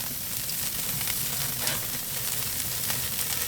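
Korean pork belly sizzling hard on a hot grill with flare-ups, a dense steady crackle and hiss up close with no one talking.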